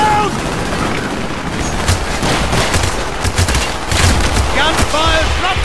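Rapid bursts of gunfire in the video game Call of Duty: Black Ops crackle continuously over a loud, dense mix of explosions and battle noise, with shouting voices mixed in.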